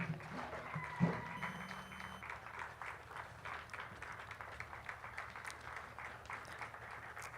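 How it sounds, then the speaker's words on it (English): Audience at a FAWE Uganda silver jubilee celebration clapping in a hall, a faint, steady patter of many hands that continues evenly throughout with a low room murmur beneath. "Please stand up for recognition and applaud"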